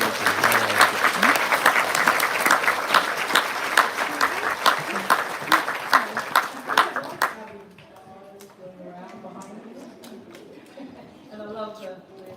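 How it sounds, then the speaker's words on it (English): Loud applause from a crowd at a community carol service for about seven seconds, then the clapping stops and quieter chatter and ambient sounds remain. "So a round of applause."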